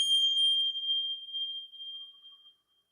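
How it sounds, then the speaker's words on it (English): A meditation bell rings with a single bright, sustained metallic tone that fades gradually over about two and a half seconds, heard alone. "throughout the meditation, I use these bells, which sound like this."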